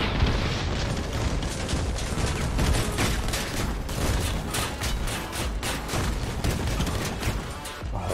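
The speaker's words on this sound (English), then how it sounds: "Oh, those my shotguns." Shotguns firing in the vehicle combat game Crossout, a dense rapid barrage of loud booming blasts repeating steadily throughout, close and continuous with no talk.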